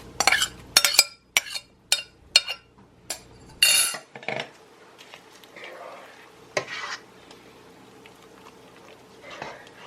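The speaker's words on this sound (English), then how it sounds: "Now the lentils are soft, so I'm adding my dandelion greens, which should not take too long to cook at all." Dandelion greens going into a pot of lentil soup bring a quick series of loud, close clinks and scrapes against the pot, then quieter, sparse stirring sounds and a soft bubbling simmer.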